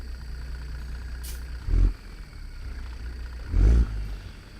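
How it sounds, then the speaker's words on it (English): Diesel engine of a cattle quad-train truck, two B-doubles joined, idles with a deep steady rumble, swelling twice into brief louder revs before settling back. "I think this engine sounds awesome."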